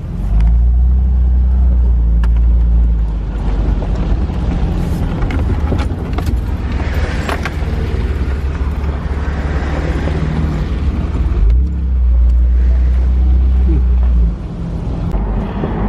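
A Jeep drives off a beach exit after surf fishing, with four-wheel drive disengaged; a loud, steady low engine and road rumble fills the whole stretch, overlaid with heavy wind buffeting on the microphone.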